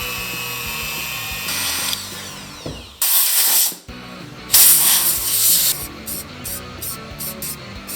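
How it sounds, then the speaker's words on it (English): Black Rust-Oleum spray paint hissing onto a Yamaha MT-07 motorcycle frame part in loud, steady bursts of a few seconds each, separated by short pauses and ending in several quick spritzes. "I'm gonna hit it up a little bit of this black Rust-Oleum"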